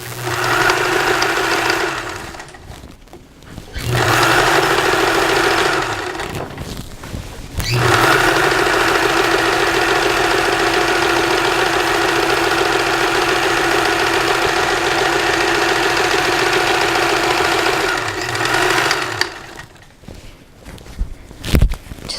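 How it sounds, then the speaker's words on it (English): Domestic sewing machine running a zigzag stitch along a fabric pillowcase, with a steady mechanical whirr in long bursts of several seconds separated by short pauses, close and fairly loud, with no talking. "I'm going to switch this to a zigzag stitch"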